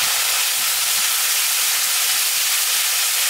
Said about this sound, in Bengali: আমি সামান্য একটু জল দিয়ে দিচ্ছি